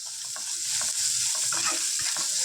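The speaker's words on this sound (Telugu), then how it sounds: "ఆనియన్ పచ్చిమిర్చి ఫ్రై చేసుకున్నాం ఫ్రెండ్స్ ఇది ఒక టూ మినిట్స్ ఫ్రై చేసుకుందాం" Onion and green chillies sizzle steadily in a hot pan while being stirred, a close, continuous frying hiss with soft scraping strokes throughout and no talking.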